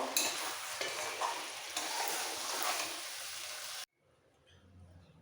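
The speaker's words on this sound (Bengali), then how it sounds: "মাংসটা কষানো হয়ে গেছে মশলাটা ভালোভাবে কুক হয়ে গেছে কষাতে কষাতে এবার কুকারে নিয়ে নেবো" Mutton curry masala sizzles and is stirred in a pan, a steady close frying hiss with scraping that cuts off abruptly near the end, leaving faint background noise.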